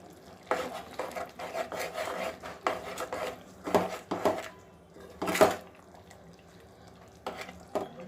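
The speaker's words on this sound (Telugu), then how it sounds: "ఇవన్నీ కలిసేలా మంచిగా కలపాలి." A spoon stirring spinach chicken curry with spices in a pot, producing quiet scattered scrapes and metallic clinks in short bursts separated by pauses.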